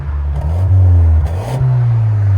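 A 2024 Hyundai Sonata N-Line with its 2.5L engine revs with the exhaust valves closed, producing a loud, close, deep drone that swells twice, rising in pitch with each blip of the throttle before settling back.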